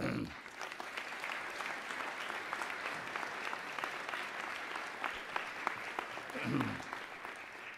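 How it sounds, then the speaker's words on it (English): Sustained applause from a large audience at a fall college commencement ceremony, a dense, even patter of many hands clapping steadily throughout, with a brief voice near the end. "giving them a healthy round of applause"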